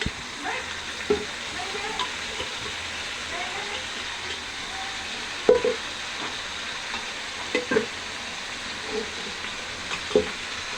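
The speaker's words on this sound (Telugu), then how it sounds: "మళ్ళీ కలిపేసి చికెన్ ఇందులో వేసేస్తున్నాను." Chicken being added to a pot and stirred while cooking pulao, a steady close sizzle and frying hiss with occasional sharp scrapes and clinks of the spoon, faint background voice.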